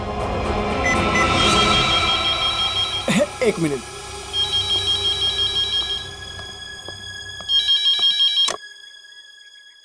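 Telephone ringing tones on an outgoing call from a phone in a stuck lift, repeating in short beeping bursts between a child's hurried speech.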